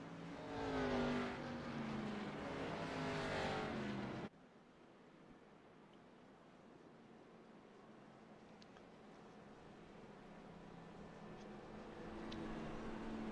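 Race cars at an IOS Cup Series race, among them the Larry Max cutaway car, with a loud engine roar cutting off abruptly and faint, steady track noise continuing.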